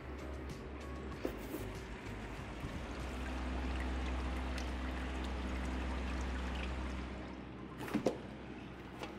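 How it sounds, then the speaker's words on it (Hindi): Water trickles and splashes steadily onto the honeycomb cooling pads of a Crompton Optimus 100-litre desert air cooler while its pump hums, a continuous close wash of flowing water with a couple of brief knocks near the end. "हनीकॉम पैड पे अच्छे से पानी गिर रहा है, पंप अच्छे तरीके से काम कर रहा है।"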